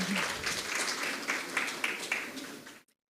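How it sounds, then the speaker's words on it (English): Audience applause at a storytelling event, a crowd clapping steadily at moderate volume for nearly three seconds before cutting off abruptly. "Please give a big round of applause to Huzaifa."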